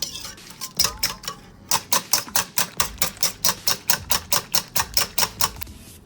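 Five eggs and a teaspoon of salt being whisked in a bowl for pizza dough, a fast, regular series of sharp utensil clicks against the bowl, loud and close, with no talking.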